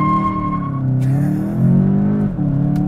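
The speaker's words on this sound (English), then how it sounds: "The tire squealing's kind of cool though. I didn't expect that out of the GLI." A 2019 VW Jetta GLI launching hard with launch control, its engine revving loudly and climbing through gears with tires squealing underneath, steady and close throughout.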